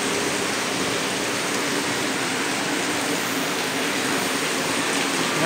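Floodwater rushing steadily and loudly through a flooded junk shop area after a typhoon, carrying floating plastic debris; a dense, unbroken broadband roar with no voices.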